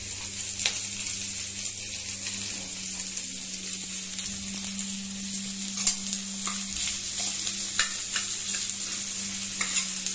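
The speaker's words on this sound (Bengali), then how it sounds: "পেঁয়াজটা কিন্তু বেশি লাল করে ভাজবো না, হালকা একটু ভাজবো, লো ফ্লেমে ভাজবো আর কি" Chopped onion and grated ginger fry gently on a low flame, making a soft steady sizzle under a low steady hum, with occasional spatula scrapes and a couple of louder knocks, close and with no speech.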